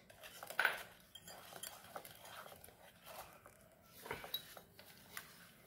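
A spoon stirs carrot oat muffin batter in a bowl, giving soft scraping and occasional light clinks against the side. It is quiet and close, with no talking.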